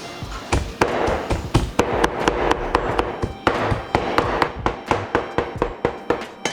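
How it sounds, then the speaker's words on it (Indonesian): Knife chopping shrimp on a cutting board, close and loud, a fast steady run of sharp thuds, about three per second. "sekarang kita cincang aja"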